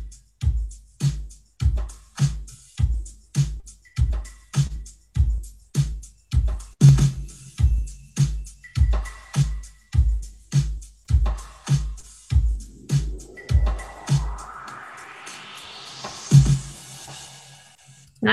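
Drums from an 80s-inspired music track: a steady, loud beat of punchy kicks and bright, white-noise snare hits repeating evenly, with a rising noisy sweep building over the final seconds, no voices.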